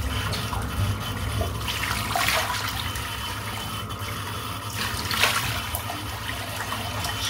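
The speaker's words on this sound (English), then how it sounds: "Splash of cold water." Cold water runs and splashes at a sink as someone rinses their face after a wet shave, a steady close trickle with a couple of louder splashes and no talking.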